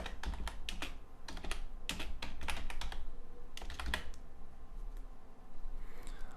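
Keys clatter on a computer keyboard in a burst of quick, uneven taps, pausing briefly before a final flurry, close and clear over a steady low background hum.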